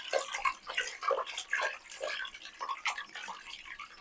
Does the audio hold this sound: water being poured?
yes